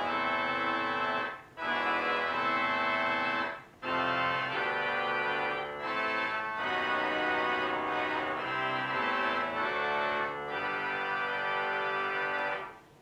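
Harmonic clarion stop on a home pipe organ plays a phrase of bright, brassy chords and notes, steady and loud, broken by a few short breaths between groups, with no talking.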